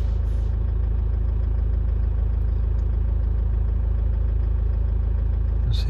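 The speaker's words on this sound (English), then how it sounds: "Seems to be quite happily idling there at 800." A Toyota engine from the 2000–2009 era idles at about 800 rpm, a steady loud low rumble that holds even throughout with no voices.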